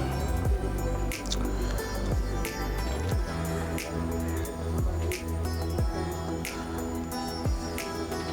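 Chopped tomato goes into a pan of soya chunks, giving repeated wet squishing and sizzling drips in an irregular rhythm, close and moderately quiet with no talking.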